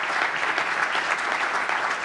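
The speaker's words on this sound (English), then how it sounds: "Let's give Vice Mayor Sense a nice round of applause for holding the mic." An audience at a mayor's ambassador forum applauds the Vice Mayor, a full, continuous burst of many hands clapping that holds steady at close range with no talk over it.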